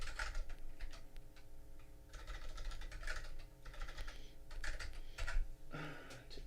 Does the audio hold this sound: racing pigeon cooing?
no